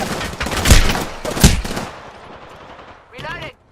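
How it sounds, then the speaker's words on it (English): Video game gunfire rattles out in two heavy automatic bursts followed by a shorter, fainter burst, all loud and sharp with no speech over them. "Taking fire."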